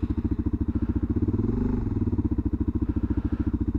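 Motorcycle with a newly fitted engine firing up and settling into a steady, rapid thumping idle, close and loud, with a brief surge in revs just after it catches before returning to an even chugging rhythm.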